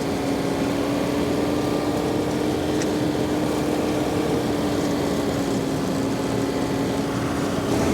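A 46-horsepower tractor running a front-mounted flail mower through thick, heavy fescue gives a steady, loud engine drone with a constant whirring hum and a faint brief tick near the middle, with no talk.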